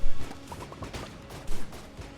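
Rapid pea cannon gunfire in Enter the Gungeon, a dense run of short close shots stacked over game music, with heavier bursts at the start and near the end.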